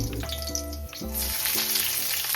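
Onion dropped into hot oil for a chicken cutlet, giving a steady, close sizzle and frying hiss with some low clatter of stirring, no voices.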